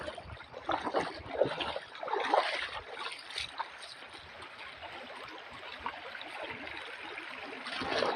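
Quiet river flowing in a rural province, soft gurgling and splashing of water with a few louder sloshes, faint and close throughout.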